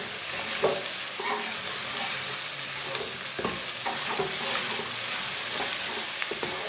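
Crushed garlic fries in a pan with a steady, close sizzle, and a utensil stirs it with occasional soft scraping taps.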